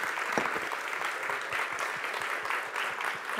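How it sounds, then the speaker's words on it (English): Audience at a talk on collecting Asian art applauding warmly, a steady wash of many hands clapping at moderate distance with no voices over it. "please let's give a very warm round of applause."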